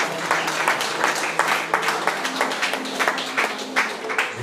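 A church congregation claps in a steady, rhythmic beat, loud and close, with the beat continuing evenly throughout.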